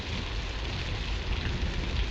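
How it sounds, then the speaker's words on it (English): Heavy rain falls on muddy cobblestones of a city street, a dense, continuous hiss of drops with a low rumbling undertone, steady and enveloping throughout. "The rain fell in heavy drops on the muddy cobblestones of Rue Saint-Jacques"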